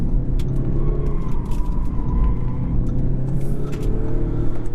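Engine of a 2017 Audi S3 on the road downshifting under driving, a steady close rumble of engine and road noise heard from inside the car.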